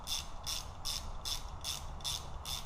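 A ratchet snugs bolts on a Honda 400EX ATV engine top end during assembly: seven quick, evenly spaced bursts of metallic clicking, close and clear, over a low background hum.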